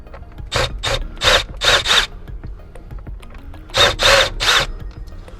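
A screw is backed out of the steering column shroud of a 2019 Kia Sportage during a remote start installation, heard as close, loud bursts of a power driver whirring in two clusters separated by a pause.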